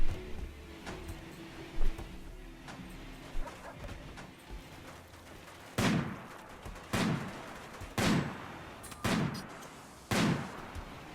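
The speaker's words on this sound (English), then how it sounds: "Skunk is firing right over Iguana's shoulder there" Gunfire in the video game RimWorld comes as a series of sharp, evenly spaced shots, roughly one per second, growing louder toward the end over a quiet in-game background.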